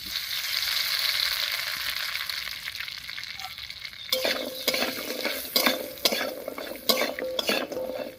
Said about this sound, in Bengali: হলুদ লবণ দিয়ে বড়িগুলো বেশ লাল লাল করে ভেজে নিয়েছি